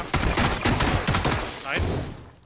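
Rapid bursts of video game gunfire crackle in quick succession, a loud stuttering volley that pauses briefly before another shot rings out, with a voice speaking over parts of it.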